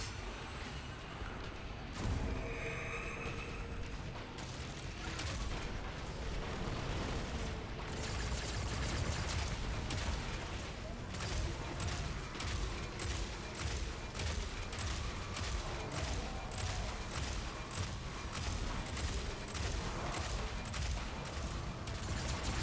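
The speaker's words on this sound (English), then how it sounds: "I'm launching 15 missiles, reloading." A missile volley fires in a video game, a dense run of sharp launch bursts and mechanical clatter repeating rapidly over a steady roar, loud and close, with no voices.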